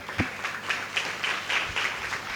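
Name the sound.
loud applause from church congregation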